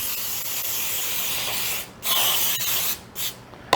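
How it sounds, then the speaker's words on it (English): Several bursts of cooking spray hiss close by onto parchment paper, a long steady spray followed by a few shorter sprays with brief pauses between them. "I'm going to spray my parchment paper"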